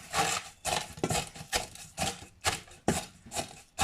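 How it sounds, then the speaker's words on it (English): A rolling pin crushes ingredients for making tea: about eight to ten firm, crunchy thuds in a steady rhythm, close and fairly loud, with no talking. "get my rolling pin and I crush them down a bit like this"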